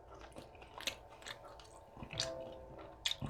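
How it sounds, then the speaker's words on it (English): Close, wet chewing and biting on ribeye steak, with soft smacking and occasional crisp crunches in an uneven rhythm. "I'm trying to chew a little bit more on my right side"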